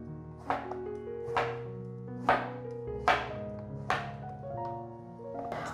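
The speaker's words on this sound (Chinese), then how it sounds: "准备一条杏鲍菇，把杏鲍菇切片" A knife slices through a king oyster mushroom on a cutting board, six sharp chops at a steady pace, each a crisp thunk with a short tail, close and clear over quiet background hum with no talk.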